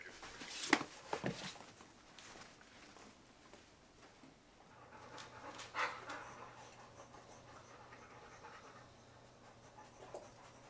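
Three dogs panting softly at close range in a quiet indoor space, with a few brief scuffling sounds and faint whimpers, no voices.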